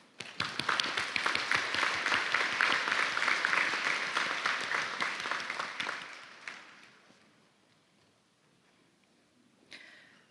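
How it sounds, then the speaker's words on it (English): An audience at a university graduation congregation for the Faculty of Business and Economics applauds faculty and staff, a full, crisp round of clapping that holds for about six seconds before tapering away to near quiet, followed by a faint later rustle. "Let us give them a round of applause for their invaluable contributions"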